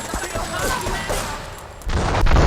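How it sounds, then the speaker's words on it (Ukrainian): A video game explosion in GTA 3 bursts out with a deep, booming rumble near the end as a bomb destroys a factory, following a stretch of crackling, gunfire-like noise. "Ось він вибух. Видовищне шоу."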